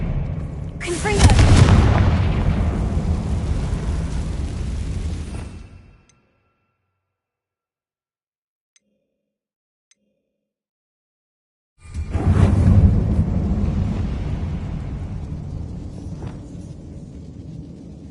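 Two booming Confringo spell explosions in the Hogwarts Legacy video game, each a loud close blast with a rumbling tail that fades over a few seconds, separated by several seconds of silence.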